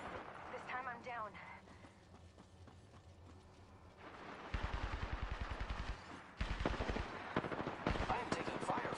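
Gunfire in the battle royale game Apex Legends, bursts of rapid shots that grow louder in the second half, mixed with game effects, with a voice talking in the first part.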